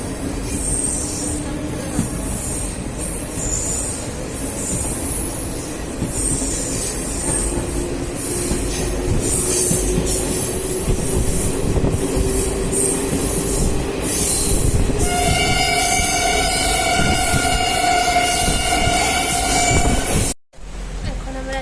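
Train rolling into Jaleswar railway station, a steady loud rumble of wheels on rails with squealing and clatter, and a long high brake whine near the end as it slows.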